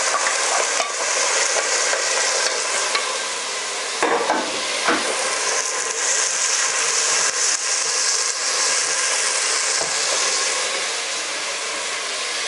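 Green peppers and chillies cook in oil and monkfish stock for a madras-style curry, giving a loud, constant broadband sizzle with occasional stirring knocks, with no one speaking.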